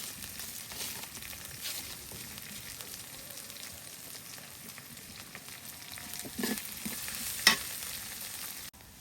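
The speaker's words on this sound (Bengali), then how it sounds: "পেঁয়াজগুলো ভাজা হয়ে গেছে" Onions frying in oil in a home kitchen pan while being stirred, a steady close sizzle with occasional scraping stir strokes and a sharper clink near the end.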